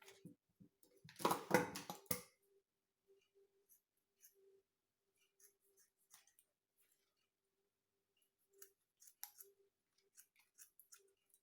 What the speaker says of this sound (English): So both sides I am going to cut out this one.